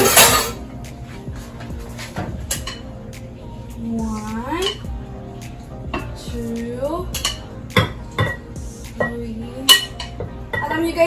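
A spoon scrapes and clinks against a container while scooping powder in a home kitchen, with several light taps and short scrapes close by under intermittent talking.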